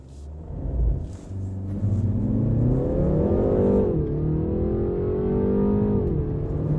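A 2019 BMW 3 Series, a turbocharged four-cylinder sedan, launches hard from a standstill, its engine note climbing steadily through the revs with a brief shift dip midway, loud and close from inside the cabin.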